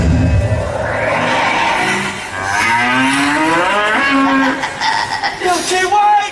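Milky White, a cow in a staging of Into the Woods, lets out a long, loud, wavering moo that fills the moment, with a voice faintly underneath.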